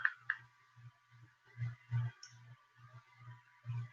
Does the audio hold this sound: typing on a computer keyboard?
yes